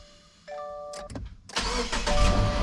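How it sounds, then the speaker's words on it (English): A Subaru Outback engine cranks briefly, then catches and settles into a steady idle after a few seconds. "Start the engine."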